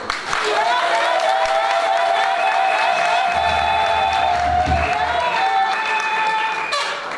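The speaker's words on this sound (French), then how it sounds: "Madame Grace Mbongi, que je prie de se lever sous des applaudissements s'il vous plaît." An audience at an award ceremony in Kinshasa applauds a laureate with sustained, dense clapping, while a voice carries on over the crowd.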